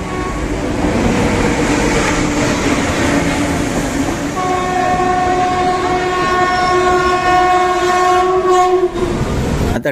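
A train rolls in loudly with a steady rumble and rattle of wagons, then a long sustained horn blast sounds near for several seconds before cutting off.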